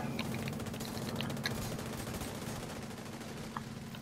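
Rapid video game gunfire crackles steadily under a constant low hum, a dense run of shots laid down as cover fire in a team-based shooter match.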